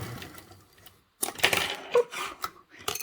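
A sewing machine back stitches a seam on a convertible duffle bag: a short pause, then a quick run of clattering mechanical bursts and taps, close up, with no talking.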